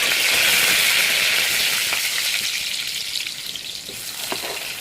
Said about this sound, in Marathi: तर तेल छान तापलेलं आहे, त्याच्यात आपण टाकणार आहोत भरपूर जिरं.